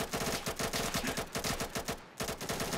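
Rapid automatic gunfire from the tactical shooter game Insurgency, with a sniper firing from a window: dense, loud bursts of shots in quick rhythm that continue almost without pause, broken by one brief gap, with no talking.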